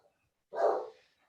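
A single short bark from an English bulldog, faint and somewhat distant, surrounded by near silence.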